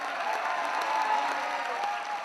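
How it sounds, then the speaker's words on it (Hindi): Audience at a Hindi poetry recital and comedy event applauding, a dense steady clapping that holds throughout at moderate loudness. "आप लोग जोरदार तालियां बजाइए"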